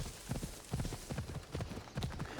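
Horse hooves clip-clop in a steady, rhythmic trot while riding across the islands in Assassin's Creed Odyssey, close and moderately loud, with no voices.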